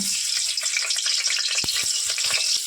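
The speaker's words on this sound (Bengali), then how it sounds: "পটলগুলো উল্টে পাল্টে ভালোভাবে ভেজে নেব বোথ সাইড।" Pointed gourd (potol) pieces coated in salt and turmeric sizzle in hot oil in a wok, a steady bright hiss with a few soft knocks as they are turned.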